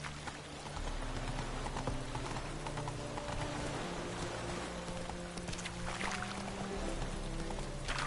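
Hooves of the horse Roach clip-clop at a gallop in The Witcher 3, a steady rhythm of soft beats running the whole time over a constant game soundtrack drone and ambient noise.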